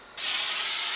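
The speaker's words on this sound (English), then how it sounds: "And I got this PM spray." PAM cooking spray hissing from the can onto a big foil-lined aluminum cookie sheet, a sudden close, loud spray burst starting just after a brief silence and holding steady, with no voices.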